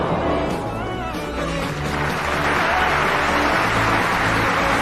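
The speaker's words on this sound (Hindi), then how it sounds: "ये देखकर सारे दर्शक उस खिलाड़ी के लिए तालियां बजाना शुरू कर देते हैं।" Sports spectators in a stadium crowd applaud a player, a dense, steady wash of clapping and crowd noise that holds and swells slightly toward the end.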